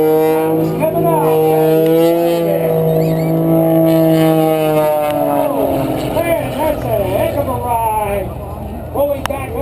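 A 350-horsepower aerobatic airplane in a 1,200-pound airframe performs at an airshow, its engine droning loud and steady with strong pitch shifts as it spins and pulls up, while an announcer talks over it.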